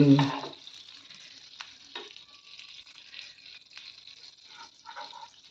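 Konkani fermented rice pancakes (surnoli) cooking on a pan give a soft, steady sizzle with faint crackles and small ticks throughout, with a brief louder scrape at the start.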